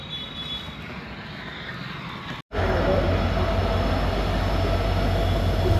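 Train rumbling along the tracks on the way to Shri Ganganagar in the desert border region, with a steady loud broadband roar that briefly cuts out, then resumes heavier and continues close and constant.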